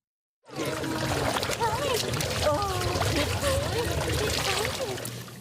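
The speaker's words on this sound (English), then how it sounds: "Dogs of all sizes hopped into the water at Mayfair Pool as part of the city's Dog Days of Summer." Dogs of all sizes splash and paddle in an outdoor public swimming pool at a city end-of-summer event, a dense, continuous wash of pouring and splashing water heard under overlapping voices and excited chatter.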